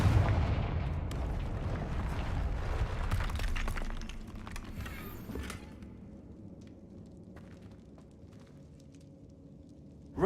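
A Confringo blasting spell detonating in Hogwarts Legacy, a loud booming explosion with shattering debris that rumbles for several seconds, then decays into scattered crackles and fading rubble.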